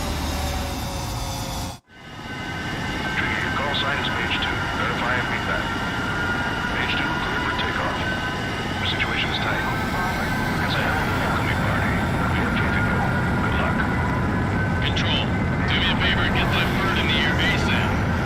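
Jet engine of an F-14 fighter in the video game Ace Combat 7, a steady loud roar filling the whole stretch after a brief dropout near the start, with a voice talking over it.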